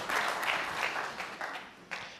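Applause from the crowd at a snooker World Championship final as the winner pots match ball, a dense wash of clapping that swells early and then thins out over about two seconds.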